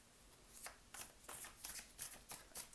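Tarot or oracle cards are shuffled for a card reading, a run of about seven quick crisp riffling bursts in a steady rhythm, close and fairly quiet, with no talking.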